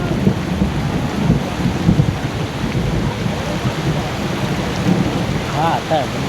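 Heavy downpour in a thunderstorm, a dense, steady hiss of rain with low thunder rumbling underneath throughout, loud and close, with no speech.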